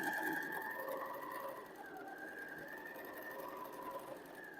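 A sewing machine chain-piecing quilt pieces runs with a steady, even mechanical hum and whir, fairly quiet and close, continuing without a break as the fabric feeds through.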